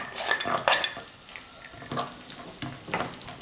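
Cashews roast in ghee in a pan while a metal spoon stirs, giving several sharp scrapes and clinks against the pan, irregular and close, over a faint sizzle.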